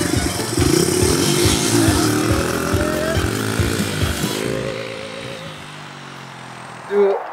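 A motorbike engine revs hard and close at the start of a backflip attempt, a loud rasping roar with rising and falling pitch that fades off, followed by a brief thump near the end.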